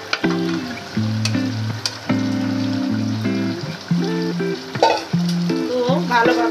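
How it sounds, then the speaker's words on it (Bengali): Spice masala with added juices being stirred and fried in a pan, with a constant sizzle and occasional spoon scrapes close by, set under loud background music. "তো ভালোভাবে আমি নেড়ে দিচ্ছি। এটা যত ভালোভাবে কষানো হবে খেতে ততই মজা হবে"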